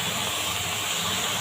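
Red amaranth leaves going into a hot pan with fried shrimp and onion, producing a broad, even hiss of steam and sizzle that holds steady for the short stretch, close and fairly loud.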